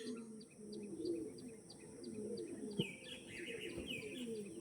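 A male Andhra pigeon calls with soft, low cooing phrases that repeat through the stretch, alongside scattered higher chirps from other birds against a steady background hum.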